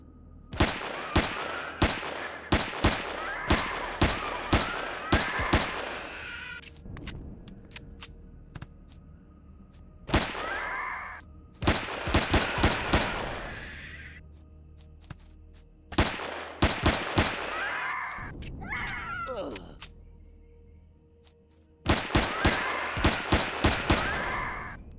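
Gunfire in Empyrion Galactic Survival: several loud bursts of rapid automatic shots, close and sharp, separated by pauses with a steady background hum and no talking.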